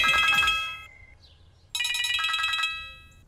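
An electronic phone ringtone plays two short melodic bursts separated by a brief pause, clear and close with a tinny, bright tone.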